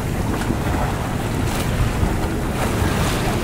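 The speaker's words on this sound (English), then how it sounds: "Well, I found some wind." Wind rushes and waves wash around a sailboat on San Francisco Bay near the Bay Bridge. The roar is loud and continuous, with gusts buffeting the microphone and water sloshing close by.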